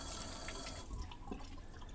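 Water runs steadily from a tap, a continuous close hiss and splash with faint irregular trickles, no voices.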